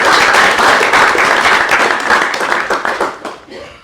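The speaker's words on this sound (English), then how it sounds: "Let's have one more round of applause." Audience applause at a town council meeting, a dense steady clapping that stays loud for about three seconds, then thins out into scattered claps and fades.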